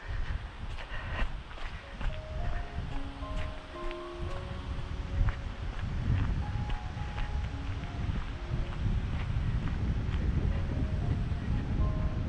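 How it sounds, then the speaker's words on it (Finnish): Strong wind blusters across the microphone at a horse stable, a constant rough low roar with gusts, while faint scattered tonal chirps and a few rustles sit over it. "Tuulee kovasti."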